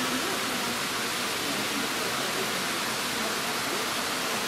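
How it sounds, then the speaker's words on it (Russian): Devichya Kosa waterfall on the Rufabgo falls, a dense, steady rushing roar of falling water heard close up, with no other sounds. "Следующий водопад называется Девичья коса."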